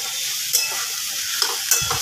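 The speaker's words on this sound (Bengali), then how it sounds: "নাড়াচাড়া করে নেব।" A spoon stirring kachori curry in a pan after sugar is added, with scraping strokes and soft clatters over a continuous sizzle, and a heavier scrape near the end.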